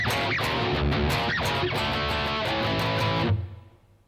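Thick distorted electric guitar chugs through the third phrase of a song, dense palm-muted rhythm chords with rhythmic accents, loud and steady, then stopping abruptly with a brief fading ring.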